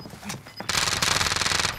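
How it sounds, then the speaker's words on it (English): Rapid automatic gunfire in the video game Call of Duty Warzone, a dense burst of shots that starts after a short quiet lead-in and runs to the end. "Receiving hostile fire."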